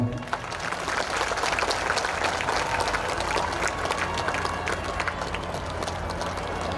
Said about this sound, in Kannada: ನಿಮ್ಮ ಪ್ರೀತಿಯ ಚಪ್ಪಾಳೆ